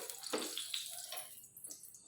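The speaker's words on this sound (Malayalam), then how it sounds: "ലേശം എണ്ണ ഒഴിക്കാം" A small splash of sesame oil is poured onto a dosa pan while making bun dosa. It is a brief, soft liquid trickle with light spatter, close and quiet, with no talking.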